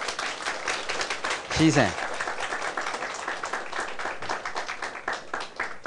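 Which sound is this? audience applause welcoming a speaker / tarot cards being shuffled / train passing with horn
audience applause welcoming a speaker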